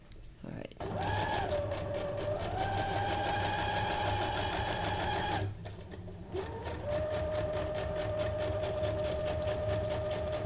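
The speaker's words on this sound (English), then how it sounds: "So let's do a straight stitch." A sewing machine running a straight stitch hums and rattles steadily at close range, with a brief pause partway through before it starts again.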